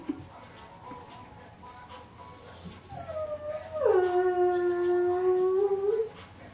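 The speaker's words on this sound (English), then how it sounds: "Oh, that's that dog. Poor thing." A dog howls somewhere in the distance, starting with faint whimpers and building into a long, rising, wavering howl that holds for a few seconds before fading into the quiet room.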